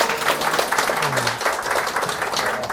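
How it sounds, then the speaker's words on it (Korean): Steady applause from a crowd at an exam prep information session fills the clip, with a voice briefly speaking over the clapping. "박수 크게 쳐주실 거죠?"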